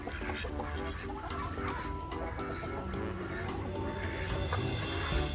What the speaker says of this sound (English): Check out the 2 little brown duckies.